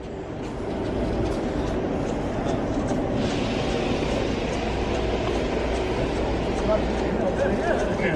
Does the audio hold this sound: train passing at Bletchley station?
yes